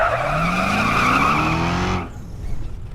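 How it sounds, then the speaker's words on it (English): Tires skid and screech during a car chase in the 2014 film Nightcrawler, a loud sustained squeal with revving engine that cuts off abruptly after about two seconds, leaving a brief quieter rumble. "that was such a cool car chase"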